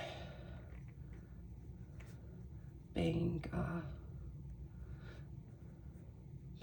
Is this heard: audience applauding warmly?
no